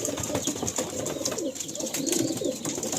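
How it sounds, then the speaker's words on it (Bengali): Big Kaldom pigeons in a loft coo steadily amid scattered rustling and a few wing flaps, a busy, moderately quiet flock sound with no voices. "এত বিগ সাইজ ফ্রেশ বডি শেপে কালদম পায়রা"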